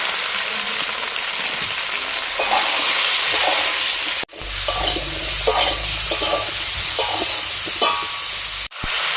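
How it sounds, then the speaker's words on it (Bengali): Potatoes and cauliflower frying in oil spiced with five-spice tempering, a loud close sizzle with occasional stirring clatter and a sharp hiss surge as more goes into the pan. "ফোড়ন হয়ে গেছে, এখন আমি আলু ফুলকপিটা দিয়ে দেব।"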